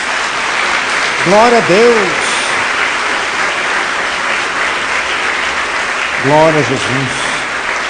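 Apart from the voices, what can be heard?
church congregation applause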